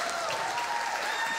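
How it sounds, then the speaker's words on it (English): Church congregation gives a round of applause, a thick, continuous patter of many hands clapping together at steady volume throughout. "Can we give our Massachusetts campus a round of applause?"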